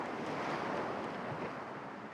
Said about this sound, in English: It sounds like somewhere with water.